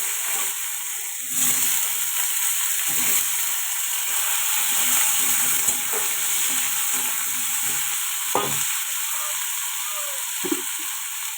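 Potatoes and slit green chillies sizzle steadily in hot oil in a home kitchen, a constant bright hiss with occasional clinks and scrapes of stirring.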